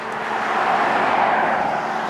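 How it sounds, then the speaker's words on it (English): Pace car driving past on the course at the Pikes Peak motorsport event, a single smooth engine and tire roar that swells and fades over a couple of seconds, fairly close and loud. "so we have the pace car."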